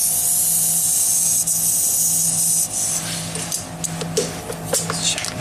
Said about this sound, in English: the XL7 is equipped with an air compressor, which is handy